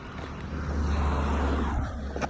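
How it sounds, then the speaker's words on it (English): A car passing by on a road outdoors, a broad rumbling wash that swells and fades over about two seconds, heard alone with no talk. "But comes a car, but that's okay."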